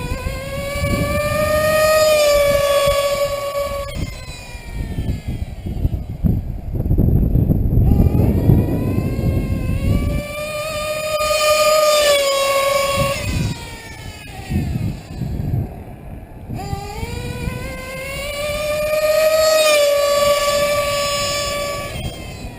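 A nitro RC vehicle running TNR fuel screams past in repeated high-speed passes, its whining engine pitch climbing and dropping with each run and throttle blips between, loud and alone.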